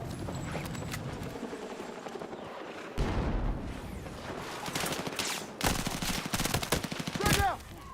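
Vector submachine gun in Battlefield 6, fired in rapid full-auto bursts with sharp cracks, alongside other gunfire and explosions in a noisy battle, loud and close, several bursts separated by short pauses.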